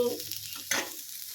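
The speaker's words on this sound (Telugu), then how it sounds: "ఈ ఉల్లిపాయ బాగా వేగాలి" Onion sizzles briefly in a pan, with a quick scrape of a spoon stirring partway through.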